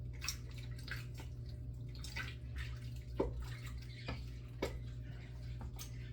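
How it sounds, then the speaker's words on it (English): A spoon stirs thick ragu sauce in a pot, giving soft irregular wet scrapes and plops over a low steady kitchen hum, with no voices. "Let's stir it up here."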